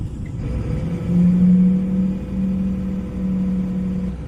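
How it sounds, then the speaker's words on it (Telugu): A heavy truck stuck in sticky clay spins its tires, its engine droning at a steady low pitch with a swelling rev that rises and falls over a continuous rumble, close and loud, no voices. "ఆ మూవ్ చేసే టైంలో కింద బంకమట్టి కదండి టైర్లు తిరిగిపోతున్నాయి"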